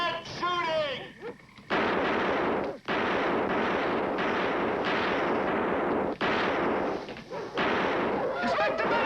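Heavy gunfire rattles in a science-fiction mutant invasion film, with a voice shouting at the start, then near-continuous loud bursts of shots and booms broken by short pauses.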